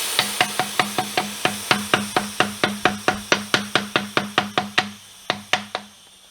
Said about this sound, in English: And use a non-marring spatula to remove this.